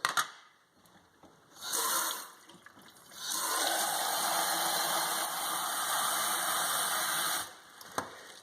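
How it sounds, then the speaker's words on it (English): Water fills the reservoir of a Bosch Tassimo coffee maker in a steady stream after a few short bursts, then stops abruptly, followed by a single sharp click. "The next step is to take your water reservoir over, and you're going to need to fill this."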